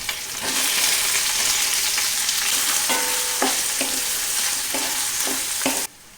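Shallots, garlic and green chillies fry in hot oil with mustard seeds and curry leaves for a beetroot stir-fry. A steady close sizzle runs throughout, with light stirring scrapes and clinks, then cuts off abruptly near the end.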